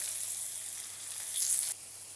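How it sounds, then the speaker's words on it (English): A steady, hissing sizzle of potatoes frying in a hot cast iron pan, close and even, swelling slightly before easing off near the end. "Potatoes have been cooking very nicely here, sizzling away."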